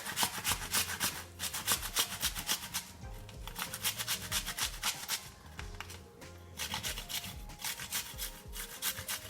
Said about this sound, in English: I'm gonna grate my ginger with my grater right here.